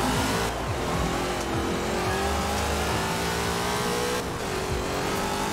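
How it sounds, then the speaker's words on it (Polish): A production car engine in Forza Horizon 4 revs loudly and continuously during a drift contest, the pitch rising and falling with throttle as tires squeal, with no talking. "Dlatego właśnie lubię te seryjne silniki w samochodach, bo one przeważnie w tej grze fajnie są zrobione"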